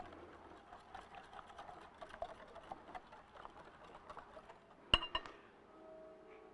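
An electric mixer hums softly as it mixes donut batter with salt, melted shortening and vanilla, a faint steady whir followed by a couple of sharp clinks against the bowl and a quieter tail.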